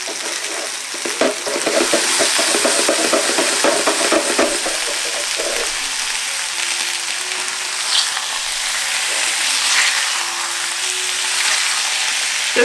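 Bangers (sausages) frying in a pan, a steady bright sizzle with crackling spatter and occasional stirring or turning clatter, close and continuous without talk.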